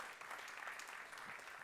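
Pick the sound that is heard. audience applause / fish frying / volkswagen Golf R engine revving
audience applause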